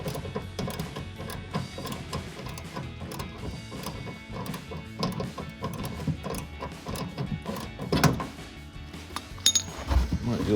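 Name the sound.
electric ratchet removing headlight bolts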